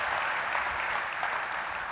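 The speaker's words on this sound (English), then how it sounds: "Yeah, that you should applaud." An audience at a speech bursts into dense, sustained applause, loud and steady throughout with no break, many hands clapping together in a large room.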